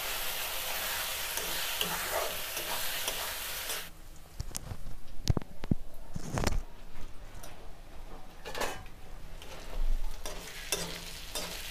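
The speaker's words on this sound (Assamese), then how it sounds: "মছলাখিনি ভালকৈ ভাজি লোৱাত" Spices, including red chilli powder, fry in a pan for a goat mutton curry: a loud, steady sizzle at first, then lighter frying broken by repeated scraping and stirring strokes of a spoon.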